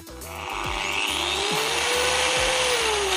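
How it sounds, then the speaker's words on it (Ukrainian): A ProCraft angle grinder with soft start whirs up to a high, steady whine and keeps running loudly, with a low rhythmic rumble underneath. "І ось така ця болгарка ProCraft PV 1100 ds Вона е, має плавний пуск, дуже гарно працює"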